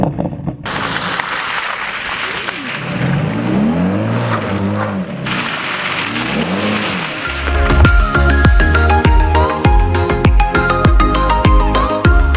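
A Bentley Bentayga SUV climbs an off-road track, its engine note rising and falling steadily throughout, joined partway through by loud rhythmic music.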